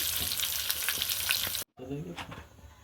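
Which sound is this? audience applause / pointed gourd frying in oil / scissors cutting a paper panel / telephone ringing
pointed gourd frying in oil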